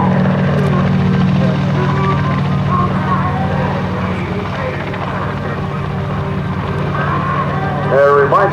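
A Sikorsky UH-34 helicopter flies at the 2010 Westfield International Airshow, its loud, steady rotor thump and engine drone continuing throughout while a voice talks over it.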